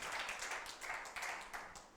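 A church congregation claps in brief bursts of applause for the Lord, a few uneven waves of hand claps heard at moderate distance with no voices on top.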